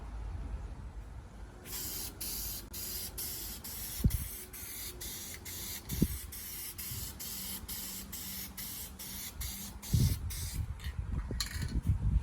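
Dupli-Color vinyl and fabric spray paint hisses from an aerosol can onto a suede race seat in steady bursts of several seconds, with brief pauses between passes and a few soft knocks and handling sounds.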